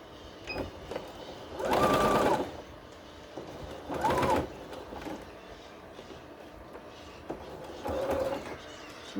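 A sewing machine stitches a French seam on a cushion cover in three short close bursts of rapid mechanical whirring, separated by quiet pauses.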